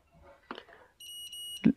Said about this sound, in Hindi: अगर एक बार बीप आके बंद हो जाए तो हमारी डायोड सही है